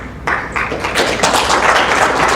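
Dense applause from a crowd at an Islamic youth conference swells up suddenly and continues loudly without letting up.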